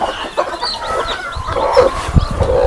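Hens cluck close by on a free-range poultry farm where newly hatched chicks sit beneath brooding hens, the soft clucks and faint chick peeps running continuously at a moderate level with no talk.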